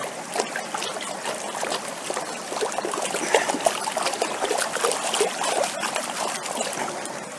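Water trickles and splashes steadily through a gold pan while panning down gravel, a continuous close sloshing and dribbling with small irregular splashes.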